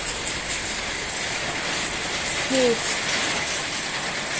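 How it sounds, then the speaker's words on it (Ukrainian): Steady rain patters on surfaces in a continuous hiss, with a brief faint bird call partway through and no speech. "у нас кожен день майже дощ"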